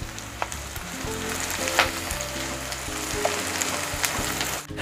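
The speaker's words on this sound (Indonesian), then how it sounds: "Saya tambahkan jahe yang sudah dipotong-potong, bawang bombay yang juga sudah dipotong-potong, diaduk-aduk, ditumis-tumis" Chopped ginger and onion sautéing in a pan while being stirred, a steady close sizzle with scattered crackles and spoon taps, plus a low background hum.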